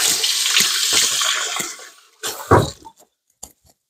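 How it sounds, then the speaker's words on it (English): Water from a kitchen sink tap runs and splashes as hands are washed, a loud rushing stream for about two seconds, then brief bursts of splashing and drips before stopping. "I wash my hands a lot when I'm in the kitchen."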